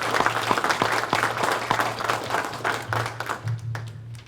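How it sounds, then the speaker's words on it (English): Audience applause for panelists at a county government public forum on collaboration and information technology, steady clapping from a modest crowd with a low hum underneath, tapering off near the end. "Why don't we give our panelists a round of applause?"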